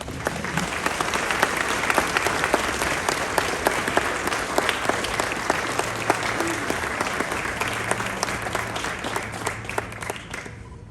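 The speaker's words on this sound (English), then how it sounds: "please join us in giving these fine soldiers a round of applause" An audience applauds at a Fort Bragg basic training graduation, with sustained dense clapping from a large crowd that stays loud throughout and tapers only slightly toward the end.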